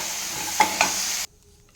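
Makhana frying in a pan with a steady hiss and sizzle, two brief stirring scrapes near the middle, then the sound cuts off abruptly.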